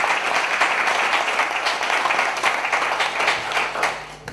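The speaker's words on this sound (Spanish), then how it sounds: "un fuerte aplauso para la organización" Steady, dense applause from the audience at a mystery-themed conference session, sustained and fairly loud for the whole stretch with no talk over it.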